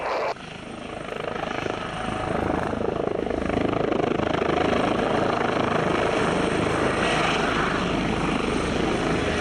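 A helicopter's engine and rotor produce a loud, continuous roar with a steady churning thrum, close and unbroken for several seconds after a brief dip in level near the start.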